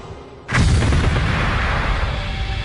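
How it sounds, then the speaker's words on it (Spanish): A powerful explosion erupts during an armed hostage rescue assault on an embassy, a sudden deep boom followed by a loud, rumbling roar that sustains for over two seconds without fading much. "una terrible explosión sorprende a todos"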